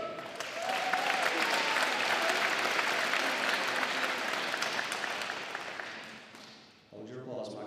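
High school year-end concert audience applauds a graduating student, a dense sustained burst of clapping from a crowd that thins out near the end before a voice takes over.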